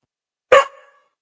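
One short, sharp dog bark, close and loud, that quickly fades into silence.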